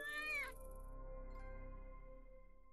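A cat in the video game Grass Cutter: Mutated Lawns lets out a short, loud, startled meow, followed by a faint sustained electronic hum from the game.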